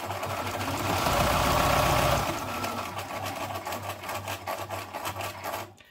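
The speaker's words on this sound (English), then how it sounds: "And then I just go around the whole photo with my zigzag stitching." Sewing machine running a zigzag stitch around a photo on a Halloween spiderweb paper craft piece, a steady fast mechanical whir that surges louder early on and then continues in rapid repeated pulses before stopping.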